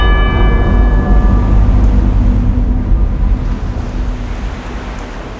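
Sea waves surging around a rock in an Orkney radio play scene, a loud, continuous rushing wash of surf with a low roar and wind, easing slightly toward the end.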